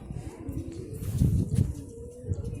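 Several low pigeon coos rumble close by, repeating in short throaty phrases over a soft background.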